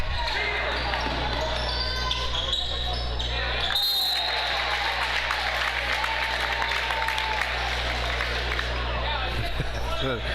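At a high school basketball game between St. Joseph and SLO, the crowd applauds while balls bounce on the hardwood and a commentator talks over the steady arena din, with a brief louder burst near the middle.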